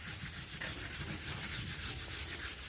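Steady rhythmic sanding strokes on a rebuilt rusty GMC truck door panel, smooth and even with no grabbing, moderately close and fairly quiet with no talking.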